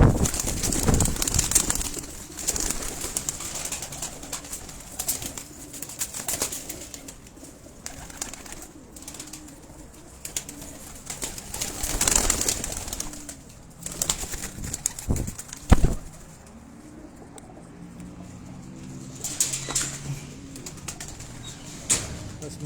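Pigeons on a Rawalpindi rooftop coo softly and flap their wings in occasional bursts, close and fairly quiet, with a little faint talk in the background.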